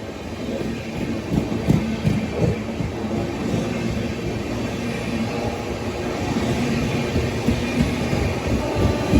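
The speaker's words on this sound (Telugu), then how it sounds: "మెల్లగా వస్తుంది వ్యాప్ 7 లోకోమోటివ్తో." The Puri Durg Express rolls slowly past behind a WAP-7 electric locomotive, a loud, close, continuous rumble with rhythmic wheel clacks and metallic rattling that holds steady throughout.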